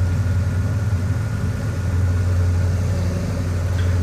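A tractor engine idles in Farming Simulator 17, a steady, loud low rumble with a constant hum that holds without change from start to finish.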